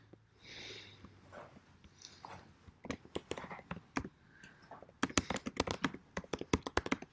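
Keys click on a computer keyboard while someone types a gig description, starting sparse and building to quick, close bursts of keystrokes.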